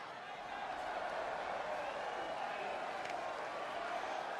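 A steady roar from the arena crowd fills the WWE 2K wrestling match before the bout begins, a dense, even wash of cheering that holds for several seconds with no single standout shout.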